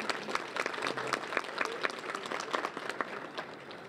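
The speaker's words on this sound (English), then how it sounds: "How about a round of applause for that caterer?" Lunch audience at a rural life conference luncheon applauding the caterer, many hands clapping at once in a lively, moderately close burst that holds steady for several seconds.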